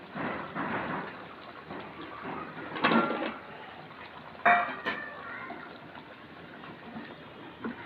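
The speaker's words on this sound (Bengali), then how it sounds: "মাংস কষানো হয়ে গেছে, এখন আমি দিয়ে দিচ্ছি আলু" Potato pieces drop into a pot of country chicken curry, giving a couple of dull thuds and clattering bumps against the pot amid a soft, steady background hiss.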